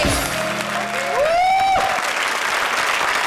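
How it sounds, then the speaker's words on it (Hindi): A studio audience applauds a comedy performer on a Hindi comedy show, crowd clapping that swells with whoops and a rising musical sting, then settles into steady applause. "जोरदार तालियां अर्चना 2 के लिए।"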